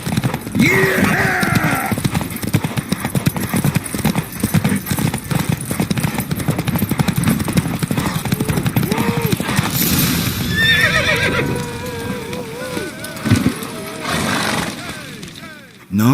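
Horse hooves gallop in a steady clip-clop during a race in the video game Witcher 3, with whinnies and neighs mixed in, a shout and game dialogue over the running hooves.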